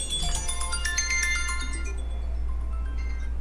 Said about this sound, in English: Chris Sobrino, you have a call.